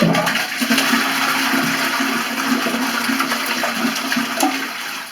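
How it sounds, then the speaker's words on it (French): A toilet cistern is flushed to empty the tank before a faulty membrane seal is replaced, releasing a close, steady rush of draining water that lasts the whole stretch and fades slightly near the end. "On évacue l'eau qu'il y a dans le réservoir, hein."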